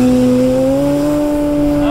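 A Hangar 9 Carbon Cub 15cc RC plane's gas engine holds a loud, steady buzzing drone whose pitch rises gradually as it throttles up for takeoff.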